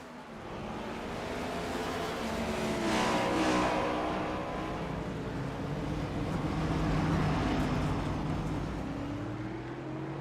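A race car in iRacing at Motegi East leaves the pit stop and returns to the track, its engine droning steadily and swelling as it accelerates, heard alone and fairly loud.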